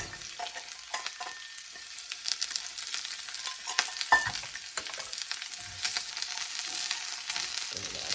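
Onions frying in olive oil in a skillet give a steady, crackling sizzle throughout, with occasional louder pops and brief scraping stirs, close and with no talk.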